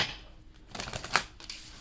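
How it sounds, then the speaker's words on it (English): Oracle cards being shuffled by hand, a quiet riffling patter of rapid card flicks with a brief louder burst near the middle. "That's a lot of shuffling."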